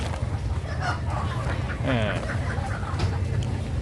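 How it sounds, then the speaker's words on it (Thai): Live chickens at an outdoor market near Luang Prabang give a brief clucking call, faint amid constant crowd noise and chatter. "นี่ขายไก่สด กุ๊กุ๊กกุ๊กกุ๊กเลย"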